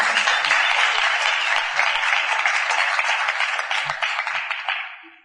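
An audience at a medical tourism congress in Puerto Vallarta claps to welcome orthopedic surgeon Dr. Max Greig, a loud sustained round of applause that thins and fades out near the end.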